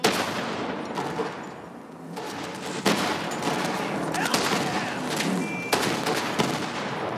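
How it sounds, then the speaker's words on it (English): Explosions in the video game Borderlands 3 burst through dense, continuous gunfire and combat noise, with several loud broadband blasts standing out over the constant roar. "Explosion."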